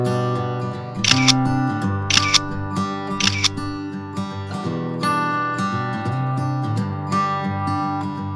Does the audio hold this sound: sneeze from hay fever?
no